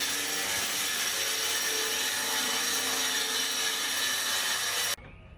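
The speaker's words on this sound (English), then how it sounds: "right now he's working on ripping the sidewalls for it" A saw rips 3/4 inch melamine boards into sidewalls for a concrete countertop form, a loud continuous whining cut that runs steadily for about five seconds, then stops abruptly.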